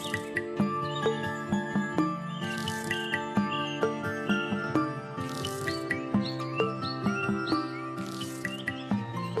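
A wounded parrot chirps in short, repeated tweets over a busy layer of insect-like trills and soft tones, close and moderately loud, with no talking.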